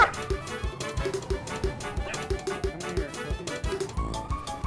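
Dog barks and whimpers from a canine in the video game GTA 5, repeated short yips and bow-wows recurring throughout over game music and background effects, with someone talking at moments.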